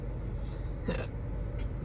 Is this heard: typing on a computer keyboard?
no